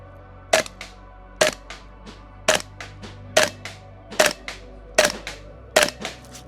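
A Double Eagle MCX Spear LT gas blowback airsoft rifle fires eight sharp, evenly spaced single shots at a 15-meter range, each a crisp crack with a quick mechanical clack, close and loud.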